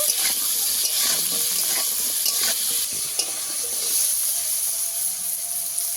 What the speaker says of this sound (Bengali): অল্প একটু লবণ দিয়ে দেবো, দিয়ে আমি কিছুক্ষণ ভেজে নেব।